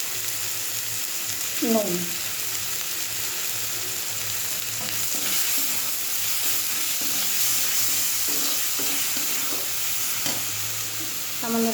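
Ginger garlic paste fries and crackles in a pan while being stirred, a steady close sizzle with occasional scrapes and clinks, and someone speaks briefly over it.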